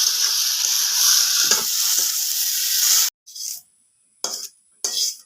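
Pointed gourd slices frying in a pan, with a loud continuous sizzle for about three seconds, then short separate bursts of sizzling as the pieces are stirred.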